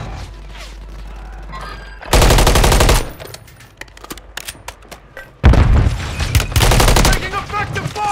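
Heavy automatic gunfire in the video game Call of Duty Warzone, two long loud bursts with a dense rattle and booming low end, separated by quieter stretches of scattered game sounds.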